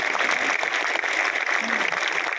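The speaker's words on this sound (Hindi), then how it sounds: "एक जोरदार तालियां शिव के लिए" An audience at a Hindi business seminar applauds Shiv with loud, sustained clapping, a dense and even roar of many hands that stays level for the whole stretch.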